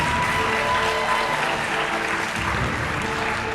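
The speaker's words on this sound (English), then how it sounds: "Round of applause, guys." Audience applause at a talent show quarter-final, a steady dense wash of clapping from a sizeable crowd filling the whole stretch at a strong, even level with no talk over it.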